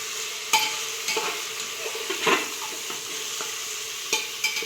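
Potatoes and cauliflower sautéed in a pan for a spiced vegetable rice pulao, giving a close steady sizzle with a few sharp clinks and scrapes of a spoon stirring against the pan.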